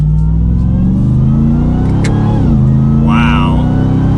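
A 2021 RAM 1500 TRX V8 pickup accelerates hard, its engine note rising in a long continuous climb, dipping at a shift and then building again, loud and close. Speech is faint underneath.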